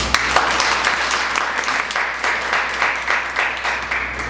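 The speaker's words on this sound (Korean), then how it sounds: "여러분 박수 한번 쳐주세요" An audience at a Korean author lecture event applauds as three speakers are introduced: sustained, even clapping from many hands in a hall, moderately loud and continuous for several seconds with no talking.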